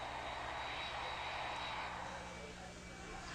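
A passenger airliner full of travellers gives off a steady, broad engine roar, a constant cabin-like rumble and hiss that holds level throughout without any distinct events.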